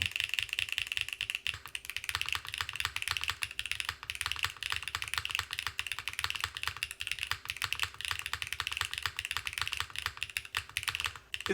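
Rapid, continuous typing on a Han's Keyboard NEO802 mechanical keyboard with HMX Hibiscus switches and an FR4 plate and no foam, making close, crisp clacks that run steadily throughout.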